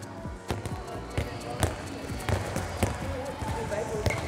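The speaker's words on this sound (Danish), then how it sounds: "Forlæns og baglæns, men med en bold, der går i jorden" A handball bouncing on the ground during a ball-handling warm-up, with repeated sharp thuds at a quick, fairly regular pace over steady background hall noise, with people talking nearby.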